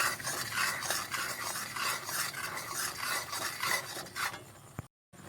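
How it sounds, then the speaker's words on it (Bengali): A spoon scrapes steadily around a pan of thickening milk malai, a rhythmic close rasping stir that continues without pause until a brief silent break near the end. "এখন শুধু অল্প অল্প এইভাবে নেড়ে যেতে হবে"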